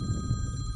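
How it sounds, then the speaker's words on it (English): A mobile phone ringing on a bass fishing guide trip on Lake Okeechobee, a short electronic tone heard over low boat and wind rumble. "My phone's ringing."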